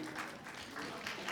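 Applause from a seminar audience at a college, a steady wash of clapping lasting the whole moment, moderately quiet and diffuse as if heard from the stage area.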